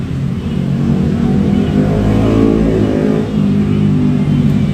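A motorcycle with a loud aftermarket exhaust revs steadily and close by, a continuous deep rumble with slight swells in intensity and no talk over it.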